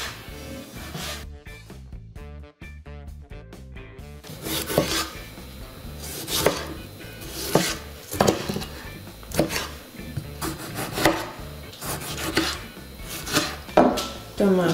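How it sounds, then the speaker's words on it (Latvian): A knife cuts through tomatoes for a spicy tomato sauce, with a steady run of sharp, close strokes that follow one another at a brisk, fairly even pace over soft background music. "Tomātus nomazgāju no sākuma un tas sagriežu."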